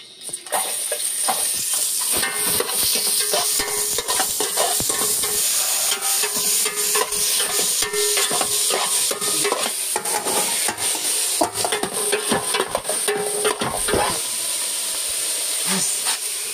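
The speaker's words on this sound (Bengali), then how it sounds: "পেঁয়াজটাকে দিয়ে দেবো আমি, পেঁয়াজ। তেলটা গরম হয়ে গেছে, আমাদের উনুনটা প্রচুর হিট।" Chopped onion sizzles loudly in very hot oil over a high-heat stove, a steady dense frying hiss with scattered crackles and stirring scrapes, close and continuous throughout.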